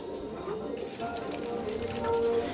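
Female Madrasi pigeons coo softly in a loft, low rolling calls repeating under a person talking nearby.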